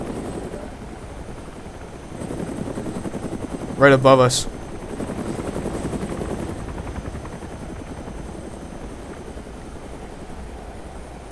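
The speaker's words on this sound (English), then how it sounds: "there's a helicopter in front of us" Helicopter in the Arma 2 DayZ video game flying overhead, a continuous rotor drone that rises as it passes close above, with a brief burst of rapid gunfire in the middle and people talking over it.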